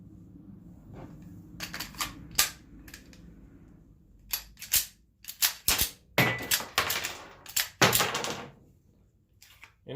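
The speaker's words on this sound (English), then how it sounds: "we'll use a Pro Mag magazine with some lead truncated cone home load bullets that are more prone to fail" A pistol chambering home-loaded lead truncated cone rounds from a Pro Mag magazine: a series of sharp metallic clicks, clacks and slide snaps, close and fairly quiet, irregular in rhythm and growing busier toward the end.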